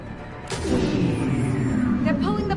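A heavy cannon fires in Mass Effect 3, a sharp blast followed by a long rumbling roar that sustains, with speech mixed in beneath.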